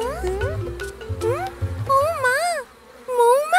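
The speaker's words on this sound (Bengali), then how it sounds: "মৌমাছি।" Cartoon bees give off a wavering, warbling buzz that swoops up and down in pitch, arriving in several short bursts, with low rumbling tones underneath at the start.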